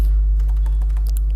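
Steady rapid clicking of keys being typed on a computer keyboard over a loud low electrical hum, close and without talk.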